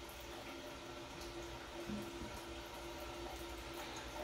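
Water runs from a Clear Rear bidet toilet seat into the bowl, a soft, steady trickle and hiss that continues throughout without anyone speaking.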